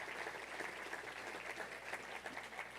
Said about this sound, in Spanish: les recibimos con este aplauso